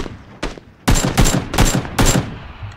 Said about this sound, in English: Oh, I shot him in the air!